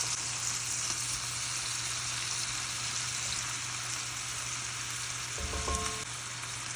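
Lobster tail meat sizzles steadily in melted butter in a cast iron pan, a loud, continuous frying hiss with a brief stir or clink near the end.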